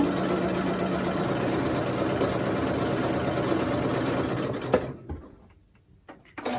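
A sewing machine stitches a Tempo sundress in a steady, close, continuous whirring run that stops abruptly near the end, followed by a few faint handling noises.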